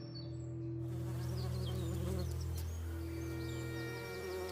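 Swarming bees droning around a hive being raided by a honey badger, a steady dense insect buzz holding close and loud throughout with no speech.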